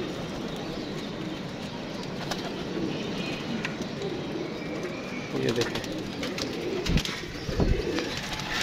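Pigeons cooing in a rooftop loft, soft repeated coos amid a busy background of wing flaps and bird noise, with someone talking over them.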